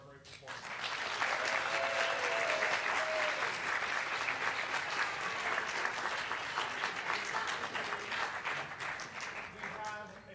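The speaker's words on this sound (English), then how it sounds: "Another round of applause for our great performance." Sustained audience applause after a student recital performance, a dense, steady wash of many hands clapping for about ten seconds and fading slightly at the end, with faint voices mixed in.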